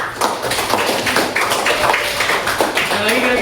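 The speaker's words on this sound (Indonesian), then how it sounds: "Tepuk tangan." A classroom of students claps hands in a brisk burst. The dense taps are close and fairly loud and carry on for a few seconds, with faint voices underneath.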